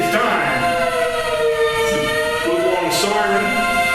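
A stadium organ plays a wailing siren effect by hand after a home run at a baseball game, a loud sustained tone that swells and bends in pitch, with crowd noise beneath.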